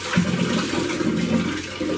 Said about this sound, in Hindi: पहले देखो इसको हम वॉश करेंगे।